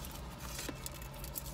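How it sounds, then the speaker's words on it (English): Heavy rain that began suddenly, a dense steady patter filling the whole stretch at moderate loudness, with no voices over it. "It just started raining really hard out of nowhere."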